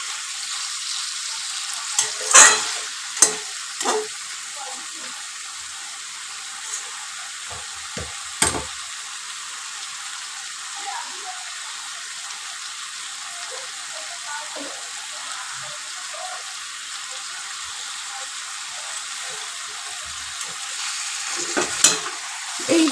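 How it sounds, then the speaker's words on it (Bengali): Chicken, Aminia-style Kolkata chicken, sautés and is stirred in a pan with water added bit by bit. A faint, steady sizzle runs throughout, with occasional spoon scrapes and clinks. "অল্প অল্প করে জলটা দিচ্ছি, কারণ এটাকে কষাবার জন্য।"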